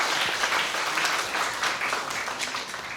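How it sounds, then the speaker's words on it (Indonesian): Congregation members applaud during a sermon, a continuous wash of many hands clapping at moderate level for about three seconds. "Mari kita tepuk tangan pada kebesaran Tuhan."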